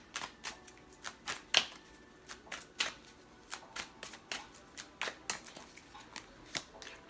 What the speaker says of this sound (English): And I shuffled and all four of these cards is turned over